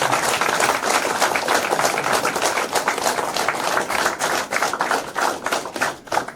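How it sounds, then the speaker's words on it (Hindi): Loud, dense applause from an audience at a spiritual gathering in Mount Abu, steady and sustained throughout with no break. "एक बार जोरदार ताली बजाएं"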